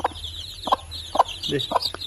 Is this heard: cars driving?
no